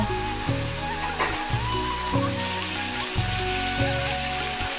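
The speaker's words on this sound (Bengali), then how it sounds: "চিনি দিয়ে আবার একটু মশলার সঙ্গে নেড়ে চেড়ে মিশিয়ে নিব।" Spices with a little sugar sizzle in a pan for egg curry, with a steady bright frying hiss and rhythmic low knocks and scrapes from stirring at close range.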